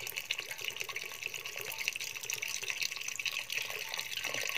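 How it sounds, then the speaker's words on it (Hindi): Water is poured into a cooking pot of Kashmiri lotus stem yakhni, a steady splashing, trickling pour heard close and alone for several seconds. "अब पानी हमने भी कम डाला है तो और पानी डाल देते हैं इसमें"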